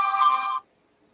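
A phone ringtone sounds in the dark at 5:34 in the morning: a bright, steady electronic tone, loud and close, lasting about half a second before cutting off into silence.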